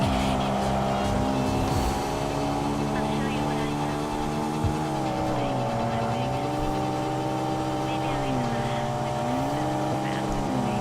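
The legendary Dam Supra race car in Tokyo Xtreme Racer 3 holds a steady, droning engine note with smooth rises and dips in revs. A voice talks over it now and then.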